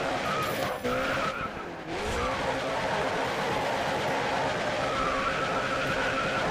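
Tires skid and squeal as a car drifts in the GRID Autosport racing game, with a steady engine roar and rising pitch sweeps running loud and continuous throughout.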